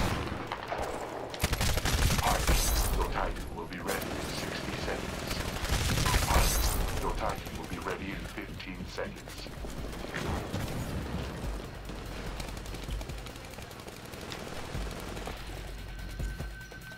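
A Titanfall firefight rages with bursts of automatic gunfire, mechanical clanks and scattered impacts over seventeen seconds, loudest early on before settling into steadier distant shooting, while someone talks over it.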